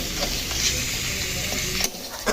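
A spatula scrapes and stirs cauliflower filling with chopped coriander leaves in a pan, the strokes coming close and steady over a continuous light sizzle, with no talking.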